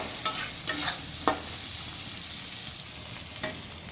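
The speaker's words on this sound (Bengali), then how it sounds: "নুন হলুদ দিয়ে আলুটা ভাজবো।" Potato pieces fry in hot oil with salt and turmeric, giving a soft continuous sizzle broken by a few sharp scraping stirs near the start and one more toward the end; no voices.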